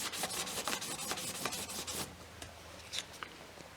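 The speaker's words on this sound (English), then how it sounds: "we finished polishing it up with the 600 grit sandpaper" Sandpaper rubs a Dillon Square Deal B press handle in quick back-and-forth strokes, close and dry, with a steady rasping rhythm that slows into a few separate scrapes.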